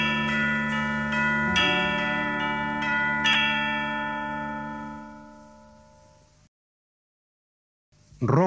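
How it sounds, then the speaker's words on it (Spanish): Bells ring out in a children's song recording, several struck tones with long shimmering decays fading away over a few seconds, followed by silence and then the start of a new sound. "Las campanas dan dindón, te lo dicen en canción."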